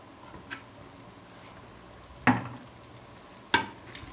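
Chicken stirred in a pan after salt and cumin go in, with a soft low cooking hiss underneath and a few sharp scrapes and clacks of the utensil against the pan, spaced apart and fairly close.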